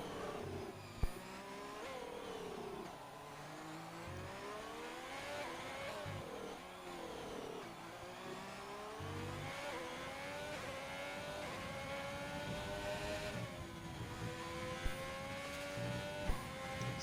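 An F1 race car engine in a Mexican GP video game race screams at full throttle, continuous high-pitched revving rising and dropping through gear changes and corners, loud and steady throughout.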